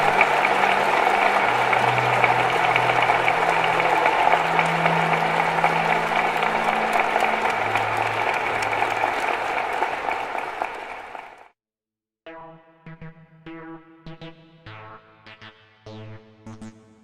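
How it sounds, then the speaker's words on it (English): An audience at the DEFCON hacking convention claps loudly and steadily for about eleven seconds before the applause cuts off and a short stretch of music follows. "let's have a round of applause for General Alexander."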